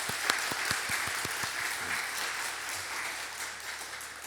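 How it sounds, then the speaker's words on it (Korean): A church congregation claps together during a worship service, with distinct rhythmic claps early on that blend into a steady, moderately distant wash of applause that fades slightly toward the end. "우리 하나님께 영광의 박수 한번 올려드리겠습니다."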